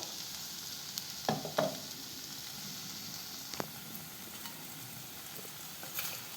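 Tomato and onion sauté in a pan over low gas for ragi wheat dosa, giving a steady, even sizzle with a few soft stirring clicks and scrapes.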